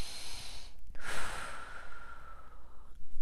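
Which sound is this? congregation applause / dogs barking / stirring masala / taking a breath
taking a breath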